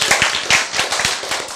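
An audience claps at a Korean church sermon, a short burst of fairly close, rhythmic handclaps in quick succession.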